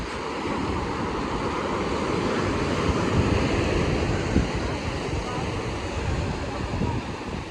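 Steady roar of surf as waves wash up Kollam beach, with wind buffeting the microphone throughout.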